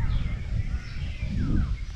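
Birds chirping and calling outdoors in a quiet, peaceful spot, several short thin calls scattered over a steady low rumble of wind.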